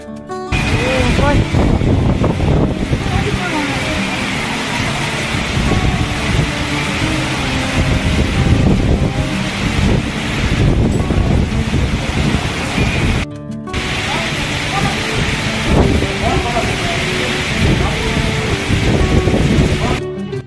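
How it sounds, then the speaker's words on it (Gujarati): Heavy monsoon rain pours down at a Meldi Mata temple in Gujarat in a dense, continuous roar, with faint voices and a short break partway through. "તમે જોઈ શકો છો આ વિડીયોમાં કેટલો વરસાદ આવી રહ્યો છે"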